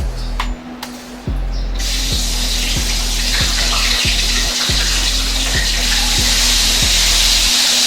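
Loud, steady sizzling of chili peppers frying in hot oil for Padang dendeng lambok, a dense crackling hiss that starts abruptly and continues close up without pause.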